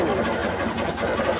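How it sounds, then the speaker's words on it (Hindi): A motorbike rides in first gear through a rural village market road, its engine humming steadily and fairly loud throughout. "बाइक जो है अभी पहले गियर में है, इसलिए थोड़ी ज़्यादा साउंड कर रही है।"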